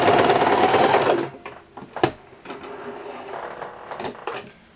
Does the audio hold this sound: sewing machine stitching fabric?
yes